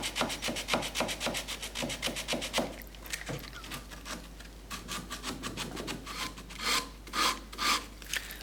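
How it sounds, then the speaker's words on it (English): Sandpaper wrapped around a waste block of timber rubs back and forth across a wooden block's face, a close, rhythmic rasping of quick even strokes that pauses briefly midway before resuming, with no voices. "you can wrap a piece of sandpaper around a waste block of timber and use it to smooth off the face"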